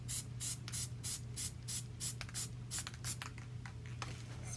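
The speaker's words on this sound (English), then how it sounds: "Spray glue." Spray glue hisses from an aerosol can onto a cosmetic organizer for glittering, in a quick series of short rhythmic bursts, close and fairly quiet over a low background hum.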